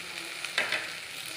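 Brinjal slices sizzling in a covered pan over a low flame, a soft steady fry with a brief louder crackle midway, close and alone without voices.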